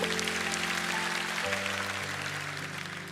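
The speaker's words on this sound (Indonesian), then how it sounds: "Yang percaya Tuhan begitu, kasih tepuk tangan untuk Tuhan." Church congregation clapping during a sermon, a steady wash of applause under sustained organ or keyboard tones, fading slightly toward the end.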